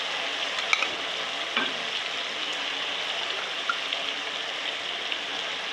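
Masala frying and being stirred in a pan while cooking sarson ka saag, a steady dense sizzle with a few faint scraping stirs, alone and even in level.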